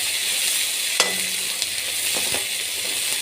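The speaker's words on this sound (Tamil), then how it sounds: "வெங்காயத்தை நல்லா ஆட் பண்ணிவிட்டு வதக்கி விட்டுக்கோங்க நல்லா" Onions sautéing in a pan for fish curry, a steady soft sizzle up close with a few sharp clinks of a spoon against the pan, no talking.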